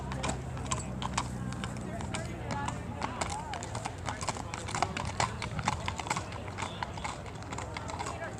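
A Pony Express rider's horse sets off at Clarksville Day in El Dorado County, California, its hooves clip-clopping in a quick rhythm at moderate distance, with people talking faintly in the background.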